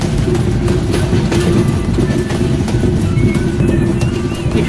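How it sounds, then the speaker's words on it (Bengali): The Ekota Express passenger train runs through the Ishwardi bypass in Bangladesh, giving off a loud, close, continuous rumble with rhythmic wheel clatter on the tracks. "1 ঘন্টা 50 মিনিট বিলম্বে বিকাল 4টা 10 মিনিটে ট্রেন এসে পৌঁছালো ঈশ্বরদী বাইপাসে।"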